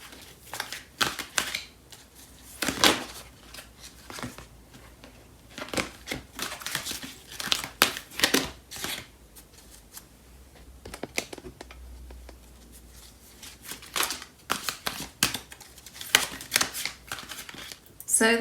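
A Fairy Tarot deck shuffled by hand, with dense crisp card riffles and flutters coming in close bursts throughout while a voice talks over parts of it.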